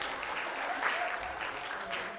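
Audience applause fills a seminar room after a table group's presentation, steady clapping throughout with no gaps and faint voices mixed in.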